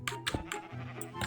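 Short, repeated sheep bleats from Minecraft, several quick nasal bleats in succession, close and clear against a quiet background.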